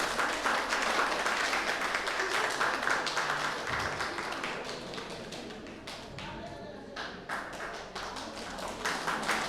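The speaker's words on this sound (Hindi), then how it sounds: "उनका कृपया तालियों के साथ स्वागत और अभिनंदन करें।" Audience applause welcoming a Kargil War 1999 gallantry medal honoree at an Indian Independence Day ceremony, steady dense clapping throughout under a faint background voice, heard from within a large outdoor crowd.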